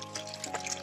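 Running water rinses homegrown tomatoes, giving a steady close trickle and splash with small bubbling variations over a short stretch, and no speech over it.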